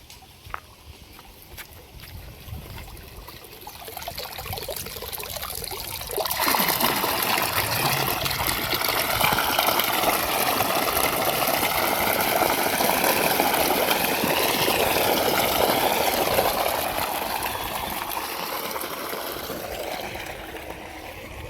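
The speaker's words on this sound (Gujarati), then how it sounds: "તો હવે દૂધીમાં પાણી પણ આવી ગયું છે અને દૂધી પાવી દેવાની છે।" Irrigation water rushes and splashes steadily into a village bottle gourd field, a broad continuous wash that swells loudly after the first few seconds and holds for the rest, with no talking.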